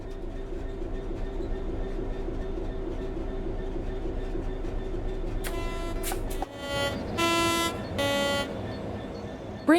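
Train Sim World 3 locomotive coasting on level track in a game training centre, a steady low rumble and rail drone throughout, joined in the second half by a brief horn-like tone and clattering wheel noise.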